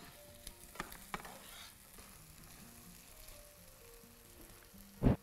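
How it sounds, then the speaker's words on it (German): Halved date tomatoes fry in hot coconut oil in a pan, giving a faint, steady low sizzle with a few soft clicks and a louder thump near the end. "Sobald das Öl heiß ist, gebe ich die halbierten Datteltomaten dazu."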